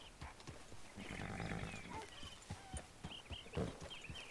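A horse in Red Dead Redemption 2 gives a soft whinny amid scattered, faint clip-clopping hoofbeats, all quiet and close with light background ambience.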